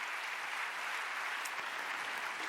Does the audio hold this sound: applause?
yes